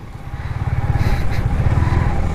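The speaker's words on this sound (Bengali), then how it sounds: "আজকে একটু মানে বিচে বাইক চালাই দেখি" A motorcycle engine on Cox's Bazar beach idles and rumbles steadily close by, a low, throbbing drone that swells slightly as it revs, with no voices.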